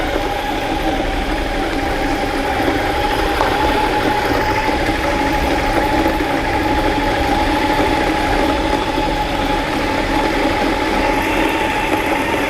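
A Weber Workshop EG-1 V3 coffee grinder grinds steadily with a continuous motor whine and whirring hum, holding an even, moderately loud level throughout without any talking.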